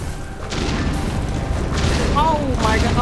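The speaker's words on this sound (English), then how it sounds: "Everything's exploding!" Explosions in the video game Hollow Knight: Silksong rumble as a dense, sustained low boom for about three seconds, with brief whistling in-game tones on top; a player's excited voice breaks in near the end.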